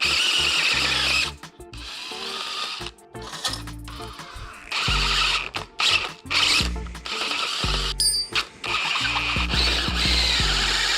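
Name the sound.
drill drilling out a ruined hole in a brake caliper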